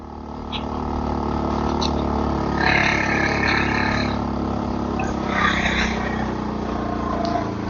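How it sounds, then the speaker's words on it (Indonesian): A motorcycle engine running rough after a steep uphill climb runs steadily nearby, a low continuous drone, with a person speaking briefly over it. "Suara motor saya udah terdengar gak enak ya."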